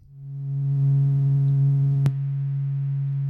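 Lo-fi synth patch in Xfer Serum with the filter off, a single steady buzzy tone that swells in and holds for a few seconds with a faint click midway; moderately quiet, no voices.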